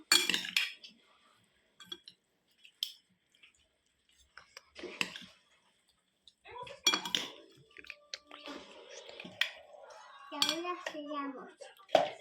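Italian pasta salad is tossed and mixed in a bowl, with scattered clinks and scrapes of a utensil against the dish, close and intermittent, interspersed with people talking nearby.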